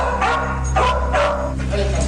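Sniffer dogs let out several sharp barks and yips in quick succession, close and fairly loud, over a steady low hum.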